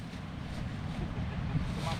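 Steady wind rushes and buffets against the microphone outdoors, a continuous low roar with no one speaking.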